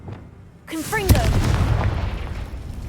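The Confringo explosive spell bursts in Hogwarts Legacy with whooshing, swirling tones, a sharp crack, and then a rolling boom that fades slowly.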